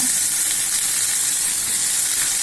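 Onion and tomato fry in hot oil with a steady, dense sizzle that holds evenly loud and close throughout, with no voices.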